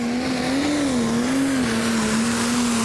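The Extreme Temptation pulling tractor working down the track at a European Championship tractor pull: a loud, continuous engine drone with a steady pitch that wavers slightly, heard from a distance with no breaks.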